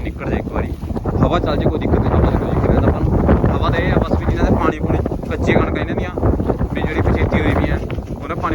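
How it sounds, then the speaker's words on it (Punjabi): Strong wind buffets the microphone in a steady roar throughout, with a voice speaking underneath the gusts. "ਦੇਖ ਸਕਦੇ ਕਿੰਨੀ ਹਵਾ ਚੱਲ ਰਹੀ ਹੈ"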